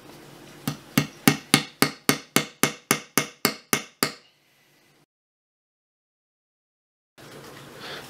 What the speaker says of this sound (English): So now you've nailed that on